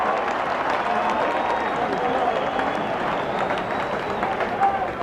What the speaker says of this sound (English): The crowd was certainly booing.